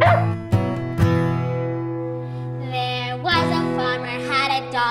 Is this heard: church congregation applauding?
no